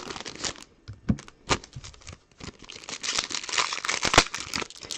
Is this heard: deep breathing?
no